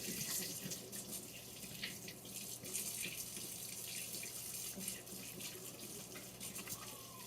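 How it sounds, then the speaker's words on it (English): Hands being rinsed under a running tap, a steady rush of water splashing into a sink, continuous and fairly faint throughout. "Gonna rinse my hands again."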